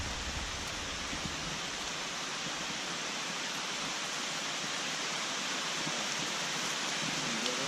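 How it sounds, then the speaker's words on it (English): Steady rain falls on a tent and the forest canopy of an Appalachian Trail practice hike, a dense, even hiss with scattered drops throughout and no voices. "it's raining pretty good now, so it'll start coming through the canopy here"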